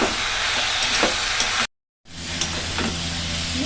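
Curry cooking in tomato sauce sizzles and spits in a pan with stirring, loud and close, broken by a brief gap of silence partway through.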